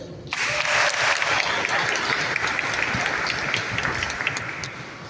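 An outdoor crowd at a ribbon-cutting ceremony for new Fire Station #1 in Daytona Beach, Florida, claps for city commissioners, a dense, steady applause that starts abruptly and holds throughout.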